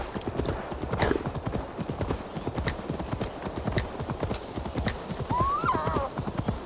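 Steady, rhythmic hoofbeat clip-clop of a horse in Assassin's Creed Valhalla, close and clear, with a short whinny rising near the end over the continuing hooves.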